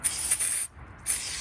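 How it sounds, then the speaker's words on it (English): Two short hissing bursts from an aerosol can of brake cleaner sprayed onto a towel, separated by a brief pause, close and fairly quiet. "We're going to spray a little bit of this on the towel."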